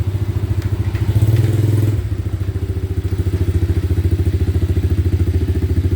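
An ATV engine idles nearby with a steady throbbing putter, rising briefly in revs before settling back into an even, pulsing chug.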